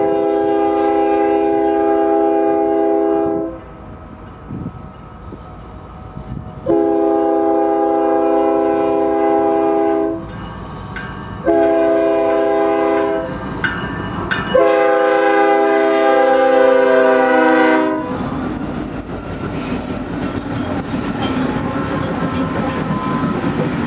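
BNSF freight train on the Cajon Sub near Daggett sounding a loud multi-tone horn in three long blasts and one shorter one, then the cars rumble and clatter steadily past close by.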